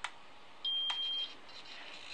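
A short electronic beep sounds from a Turnigy 9XR radio transmitter, followed by a couple of quick faint bleeps against a soft background hiss.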